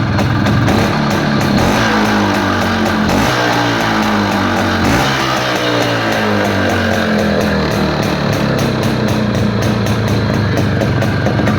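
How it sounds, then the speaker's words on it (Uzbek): A cold motorcycle engine runs loud and close, its pitch climbing and falling through several revving sweeps over a continuous rough drone, with no voices. "gaz berib ko'raman, quloq solib ko'ring motordagi hali sovuq motor"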